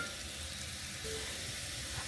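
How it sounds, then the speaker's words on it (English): Onions frying steadily in a hot pan for Kenyan beef pilau, a continuous crackling hiss close by with no talking. "Just fry your onions until they turn to a brown, a very brown color"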